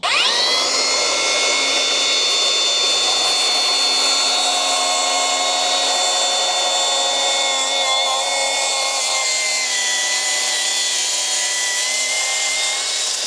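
A Milwaukee track saw cuts lengthwise through a large timber board, a loud, steady high-pitched whine that runs without a break for the whole stretch and shifts slightly in pitch partway through, with no talking.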